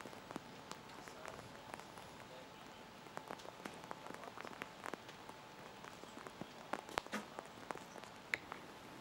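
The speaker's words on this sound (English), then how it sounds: "I think the rain might have picked up just a little bit." Rain falls steadily outdoors during a recurve archery quarterfinal in Tokyo, a faint even patter broken by scattered sharper drops and taps, with no voices over it.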